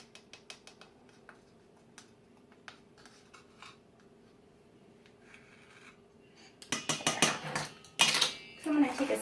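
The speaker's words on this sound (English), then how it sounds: "I'm going to take a spoon and I'm going to mix all these dry ingredients together" A spoon stirring dry brownie ingredients with baking powder in a bowl, soft scattered taps at first, then louder close scraping and clinking bursts near the end, over a low background hum.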